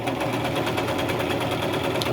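A sewing machine stitches a pillow seam at a steady fast pace, its rapid even whirring and needle chatter loud and close and running without a break, no voices.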